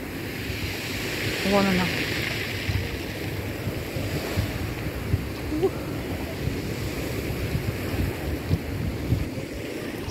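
Slightly stormy Adriatic Sea at sunset near Dobra Voda, Montenegro: a steady, broad wash of surf with wind noise across the microphone. A brief voice speaks early on over the continuous roar.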